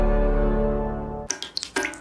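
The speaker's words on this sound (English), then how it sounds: "That's the sound of a crack in the ceiling found at a home inspection." Water drips from a leaking crack in a ceiling, a few distinct separate drops after a fading tonal sound, close and clear.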